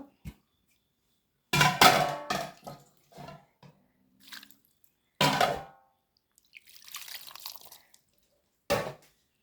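Water poured into a pan of prawn and mango thoran makes a few separate close splashy pours and wet squelching bursts, with silent gaps between them and a soft sizzle-like wash midway.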